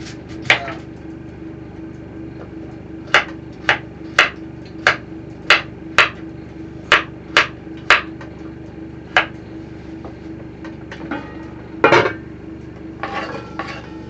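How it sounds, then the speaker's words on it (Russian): A knife chops juicy carrots into large pieces on a board, about a dozen sharp, evenly spaced knocks with pauses, then a cluster of busier clatter near the end, close and clear with no talk. "Режу, я прям крупными кусками"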